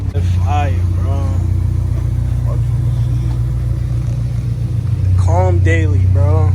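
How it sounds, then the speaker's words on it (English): Steady low hum of a BMW engine idling while warming up, close and continuous, with people talking over it at the start and end. "I'm warming up the BMW"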